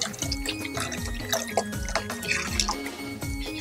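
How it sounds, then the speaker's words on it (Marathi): Water left from boiling chicken is poured into a handi for a chicken handi dish, a steady close trickle with dripping and splashing, heard alone without talk. "त्या चिकन बॉईल केलेला जो पाणी आहे तो याच्यात आपण टाकणार आहोत"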